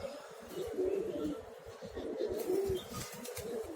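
Pigeons cooing in repeated soft throaty phrases, close by and steady throughout, with faint chirps and light background noise.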